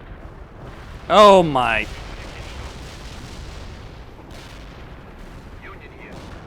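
Artillery barrage firing in the World in Conflict video game: a loud burst of booming shots around one to two seconds, then a rumbling tail under soft background noise, with a brief voice exclaiming.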